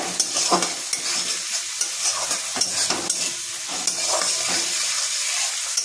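Masala with chopped tomato and green chilli for egg tadka sautéed in a pan, a continuous bright sizzle under repeated spatula scrapes and stirs, close and steady, no voices.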